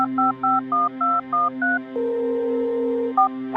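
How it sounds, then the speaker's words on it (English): Touch-tone phone keypad beeps as a number is dialed: seven quick evenly spaced tones, a longer steady tone, then one more beep, all clear and close with no talking. "took out his phone and dialed"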